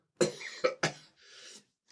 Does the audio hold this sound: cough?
yes